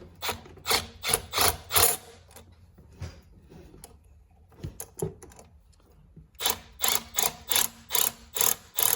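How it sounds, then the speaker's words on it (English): Ratcheting clicks from a T-bolt clamp being loosened on cold-side intercooler piping of an L5P Duramax, coming in quick rhythmic bursts early and late with a quieter fumbling stretch between. "the first thing I'm gonna do is loosen up this T-bolt clamp."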